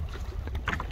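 A kayak moves on the water at Sidi Rahal beach, heard in one brief moment of low rumbling water wash and wind buffeting the microphone, with a faint splash near the end.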